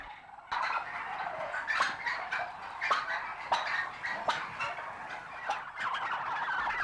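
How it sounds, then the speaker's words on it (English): Many bronze turkeys gobble and chatter together in a shed, a dense, overlapping chorus of warbling calls with occasional clanks. "Premium-priced bronze turkeys."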